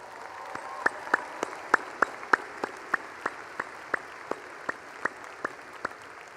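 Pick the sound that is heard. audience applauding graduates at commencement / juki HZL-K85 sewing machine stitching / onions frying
audience applauding graduates at commencement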